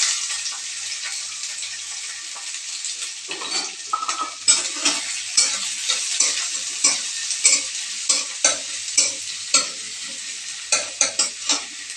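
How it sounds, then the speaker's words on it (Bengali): Chopped onion and green chilli frying in hot mustard oil, a steady close sizzle broken by repeated scraping and clinking strokes of a utensil stirring in the pan, with no talking. "এখানে আমরা পেঁয়াজ কুচি আর লঙ্কা কুচি করে রেখেছি, সেটাকে ভালো করে ভেজে নেব।"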